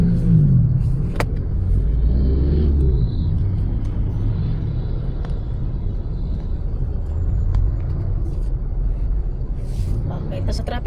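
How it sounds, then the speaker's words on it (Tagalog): Heavy road traffic in Santa Mesa, Manila: a continuous loud low rumble of engines and vehicles, with occasional faint clanks and hisses, heard from inside a moving delivery vehicle. "Dito tayo sa Santa Mesa. Ayan, nasa katrapikan tayo mga kamoy."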